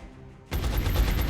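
Gunfire from a soldier's weapon in the strategy game XCOM: Enemy Within, a sudden loud burst of shots that cuts in after a quiet moment and sustains as a dense rattling volley until the end.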